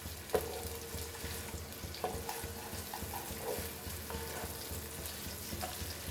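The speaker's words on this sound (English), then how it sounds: "Now we'll add our onion and we'll fry this nicely." Onion frying in a pan for a Goan clam pulao gives a steady, close sizzle with a few light clicks and scrapes of stirring over the top, all at an even level.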